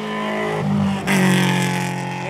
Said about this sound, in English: He is in the production Subaru Impreza.